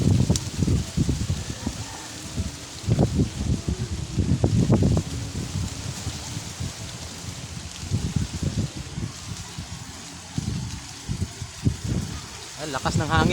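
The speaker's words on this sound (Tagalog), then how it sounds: "Ay, lakas ng hangin" Strong wind gusts roar and rustle through foliage outdoors in a continuous broadband rush, while someone talks loudly over it throughout.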